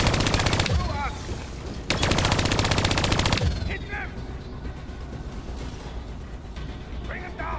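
Gunfire in the video game Call of Duty Black Ops 3, two loud rapid automatic bursts followed by quieter mechanical clatter and game effects, with a voice speaking faintly over parts of it.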